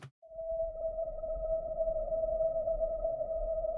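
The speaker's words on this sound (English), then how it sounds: "Pretty much just one weird atmospheric note" A single sustained atmospheric synth texture note drones steadily and alone, dry and moderately loud, with a faint low rumble beneath and a soft overtone above, holding unchanged for several seconds.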